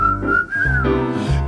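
A single person whistles a short melodic phrase live on stage, the clear tone bending up and down over a backing of low instrumental sound.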